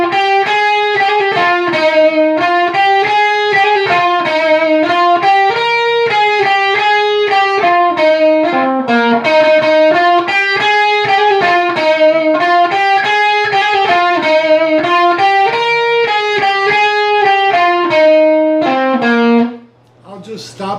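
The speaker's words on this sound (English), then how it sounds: "So with the harmony guitars, guitar 1 will sound like this." Overdriven electric guitar playing the first harmony part of a song solo, a continuous legato melodic line of sustained singing notes, loud and close, ending abruptly with a brief fade.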